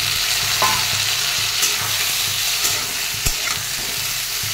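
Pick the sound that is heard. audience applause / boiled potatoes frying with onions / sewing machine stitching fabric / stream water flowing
boiled potatoes frying with onions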